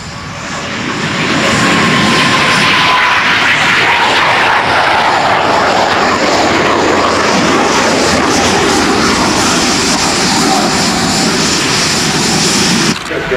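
A MiG-17 jet flying an aerobatic display roars loudly overhead. The sound swells over the first seconds into a sustained, heavy engine rush that cuts off abruptly at the end.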